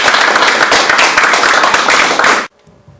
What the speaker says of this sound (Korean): 큰 박수로 맞으시면 감사하겠습니다